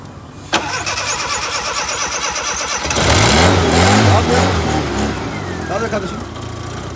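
A Tofaş Kartal SLX car engine cranks with a sharp click, then catches and roars into loud revving that swells and settles into a rough idle close by.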